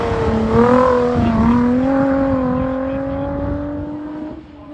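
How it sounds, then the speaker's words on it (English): Nissan 350Z racing up the Harewood hillclimb course, its engine revving hard with a rising whine heard from the trackside, loud and steady before easing slightly as it pulls away. "Heading into Farmhouse at the moment, the Nissan 350Z of Steve Carter."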